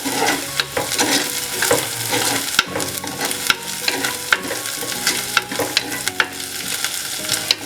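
Onions, curry leaves and ginger sauté in hot oil for a fish curry, a dense continuous sizzle broken by repeated sharp scrapes and taps of a spoon stirring the pan.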